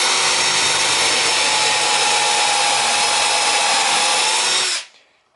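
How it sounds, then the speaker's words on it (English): A power drill whines steadily at high speed for several seconds while drilling a pocket hole in wood with a pocket hole jig, then cuts off abruptly and spins down to quiet. "I'm going to drill a pocket hole"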